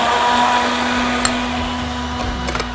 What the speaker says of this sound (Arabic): هضرب الكلام ده كله.